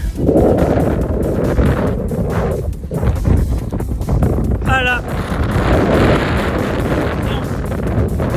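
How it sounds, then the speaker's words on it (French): Strong wind buffets the microphone in a loud, continuous roar with gusting surges, and a brief voice speaks partway through. "il y a pas mal de vent"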